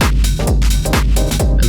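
Electronic techno kick drums, each a deep, driving, booming thump with a rumbling low tail, repeat loudly at a quick steady pulse, close and alone.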